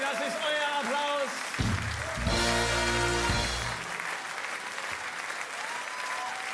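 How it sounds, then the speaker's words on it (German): A burst of applause from a carnival (Fastnacht) audience in Franken rises and fades over a few seconds after a guard dance, with music-like tones and a voice around it. "Das ist euer Applaus."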